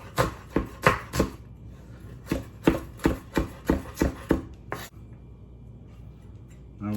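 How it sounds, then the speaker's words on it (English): A knife chops an onion into small pieces on a cutting board, about a dozen sharp, close taps in a quick steady rhythm, then it stops and a quiet pause follows. "You wanna cut it into small pieces."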